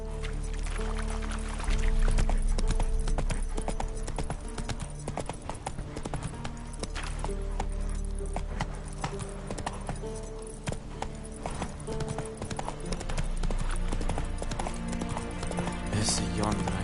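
Horse hooves gallop in a steady clip-clop rhythm in The Witcher 3, loud and continuous, with game sounds and occasional voices over them.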